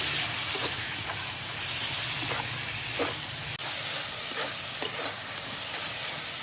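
Spice paste with turmeric, chili and Kashmiri chili powders, salt and garlic paste sizzles steadily in a pan while being stirred, for a chicken and potato curry, with soft scraping stir strokes over continuous close frying hiss.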